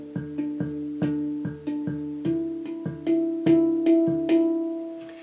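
Handpan struck in an independence pattern: a steady run of about a dozen ringing, bell-like notes with a repeating ding rhythm, close and clear, each note decaying briefly before the next, no voices.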